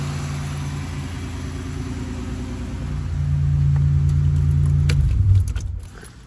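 A 1987 Buick Regal Turbo T with a larger turbo idles steadily with a low, even rumble, the pitch lifting slightly partway through before the engine settles back down near the end.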